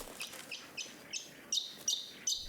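Bird song with a short chirp repeated about every third of a second, rising in strength over the run; a quiet, fairly close bird with faint background hiss and no talk.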